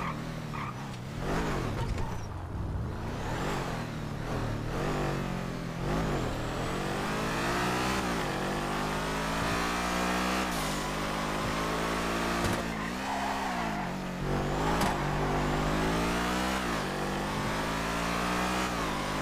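A new car's engine revs hard and loud at close range, rising and falling in sweeping pitch with a steady throaty drone underneath throughout.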